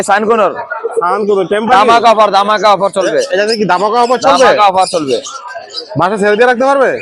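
Birds chirp and coo at the Mirpur 1 bird market in Dhaka, Bangladesh, where young birds are sold, half-buried under nearly continuous close conversation between people.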